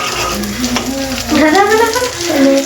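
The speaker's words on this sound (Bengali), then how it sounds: "এই কিন্তু খুব সুন্দর ভাজা হচ্ছে" Potato balls fry in hot oil with a loud, close, continuous sizzle and bubbling crackle, while a voice hums briefly over it.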